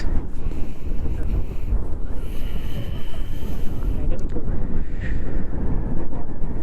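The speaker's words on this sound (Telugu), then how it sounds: "మీకు గాలి సౌండ్ కూడా వస్తుండాలి కొంచెం" Strong wind on a hilltop at Baba Budangiri, Karnataka, buffets the microphone in a continuous low roar, gusting loud and close throughout.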